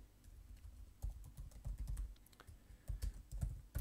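Computer keyboard being typed on, quiet uneven clusters of soft key clicks with brief gaps, close and alone.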